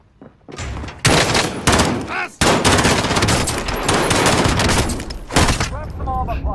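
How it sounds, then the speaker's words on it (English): Dense gunfire from the Warzone video game: rapid loud bursts of shots run almost continuously after the first second, with a brief pause near the middle, all close and heavy. "I'm taking fire!"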